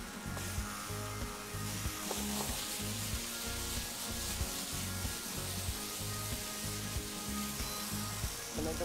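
Pressed tomatoes shallow fry in a pan with a steady, moderate sizzle, joined by faint scraping and rubbing of a utensil, with no talking.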